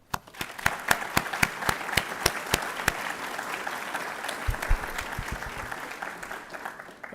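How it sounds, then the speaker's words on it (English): Applause from parents, faculty and guests at a university college award ceremony, opening with loud, sharp individual claps that blend into a sustained, dense wash of clapping from a large indoor crowd, with a few low thumps near the end. "You deserve a round of applause as well."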